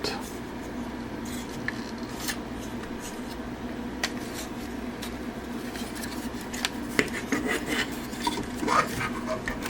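Plastic transforming robot toy, a Cyber-Factory CF01 Star Storm Starscream figure, being handled and folded into shape, with close, continuous rubbing and light scraping and a few small clicks, plus faint background hum.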